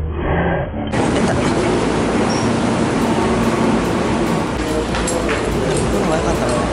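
Steady low rumble of a Tokyu Line train in motion with broadband rolling noise, heard from inside a carriage, with a voice announcement over it for a local train running through onto the Minatomirai Line to Motomachi-Chukagai.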